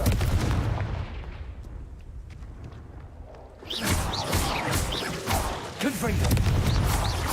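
Confringo blasting spells exploding in Hogwarts Legacy, with loud booming impacts and crackling debris, a brief quieter lull, then another burst of blasts and clatter, while a voice speaks between them.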